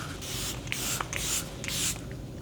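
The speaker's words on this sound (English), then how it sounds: "we are first going to go in with a layer of setting spray" Close, short hissing spritzes from a makeup setting spray bottle, three or four bursts in quick succession.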